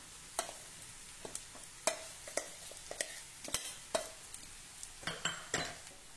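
A paste of ground pigeon peas, garlic and chili hits a pan of hot oil with turmeric, giving a quiet sizzle under repeated sharp scrapes and clinks of a spoon stirring against the pan.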